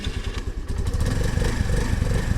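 Engine of a 2022 Honda NAVI motorcycle idling low and uneven just after a cold start, a close, steady low putter with slight clatter running throughout.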